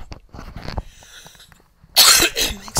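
A loud, harsh cough bursts out near the end, preceded by quieter rustling and small handling noises.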